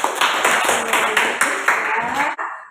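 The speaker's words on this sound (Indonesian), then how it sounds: "Oke, tepuk tangan untuk kita semuanya dulu." An audience clapping in a classroom lesson setting, a dense burst of applause lasting a couple of seconds before cutting off, close and fairly loud.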